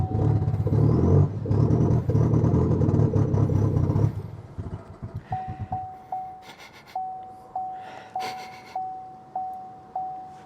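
A rough 2020 Chevy Sonic engine with a faulty exhaust revs loudly for a few seconds, then drops away, leaving a repeating high beeping chime with faint sputtering knocks.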